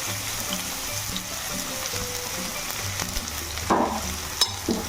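Onions and green chillies sizzle steadily in hot oil in a pan with panch phoron, a close continuous frying hiss broken by a couple of brief scraping stirs near the end, with no talking.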